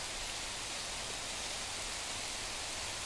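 Heavy rain pours steadily in a rural village area, a dense, even hiss of drops with no pauses or distinct hits, fairly quiet overall and heard alone.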